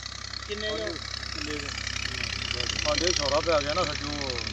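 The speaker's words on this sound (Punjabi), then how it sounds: "ਟਰੈਕਟਰ ਸ਼ੁਰੂ ਹੋ ਗਿਆ, ਅੱਲਾ ਕਰੇ ਚੱਲਣਾ ਹੁਣ" A tractor engine runs at a steady idle with a continuous rumble beneath someone talking throughout.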